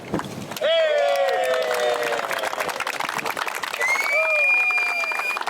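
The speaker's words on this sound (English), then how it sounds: "And there's an excited crowd." An excited crowd at a boat ramp cheers, whoops and claps as the first boat launches after Hurricane Michael. Loud shouts and whistle-like cries ride over continuous applause, with people talking.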